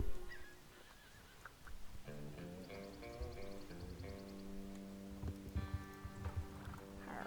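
A horse in the video game Star Stable Online whinnies amid light clip-clopping hooves, with a soft melodic game soundtrack playing underneath, faint and fairly close.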